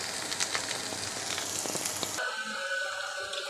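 A creamy mixture fries in oil in a home kitchen, giving a steady close sizzle for about two seconds before it cuts off abruptly into quieter, tonal background sound.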